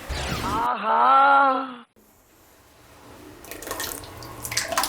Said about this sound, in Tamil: சார் நம்ம கொஞ்சம் தண்ணி ஊற்றிக்கலாம்.